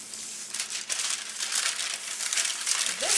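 Thin plastic sheet is peeled away from rolled strawberry rhubarb pie crust dough, a close, steady crinkling rustle lasting a few seconds with a brief low voice sound near the end.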